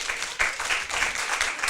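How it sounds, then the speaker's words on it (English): Steady audience applause for the speakers at a summer course session, continuous clapping from a sizable crowd, fairly loud and close, with no talking over it. "So please give the big applause for our speakers here."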